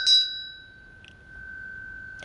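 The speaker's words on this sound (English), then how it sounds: "Bell ringing, artificial sound or natural sound?" A single bright ring of a bicycle-style bell that rings out sharply, then sustains and slowly fades into near silence, with a faint tap at the end.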